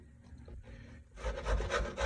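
Zucchini being grated by hand on a grater for zucchini bread: quiet at first, then a run of rhythmic rasping strokes up close, each a short scratchy pass, with no talk.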